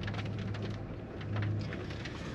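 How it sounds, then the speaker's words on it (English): Hail and rain falling outdoors, a steady dense wash of patter that swells slightly midway, with no voices over it. "it's currently starting to hail and rain once again"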